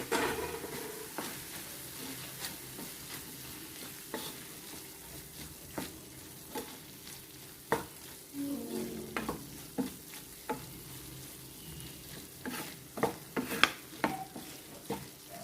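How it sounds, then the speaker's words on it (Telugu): A spoon stirs ridge gourd curry with a teaspoon of chili powder in a pan. Soft scraping and clicking strokes repeat over a gentle, continuous sizzle from the hot pan. "ఇప్పుడు ఇందులో కారానికి సరిపడా 1 టీ స్పూను కారం పొడి వేసుకొని మళ్ళొకసారి దీన్ని కలుపుకోవాలి."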